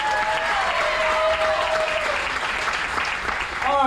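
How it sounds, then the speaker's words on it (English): Applause from an audience at a percussion show aboard a cruise ship, steady clapping that fills the space and then swells slightly at the end. "Give Brooklyn a round of applause"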